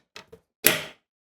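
A plastic door catch cover on a Maytag dryer's inner door panel is pressed into place with two light taps, then one firmer snap-like thunk that rings briefly. The sounds are close and there is no talking.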